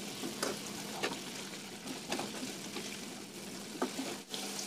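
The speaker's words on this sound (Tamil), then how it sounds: "அடுத்த சைடு மீன் நல்லா பொரிஞ்சிருச்சு." Fish frying in hot oil, a steady quiet sizzle with several sharp crackling pops spaced through it, close and without talk.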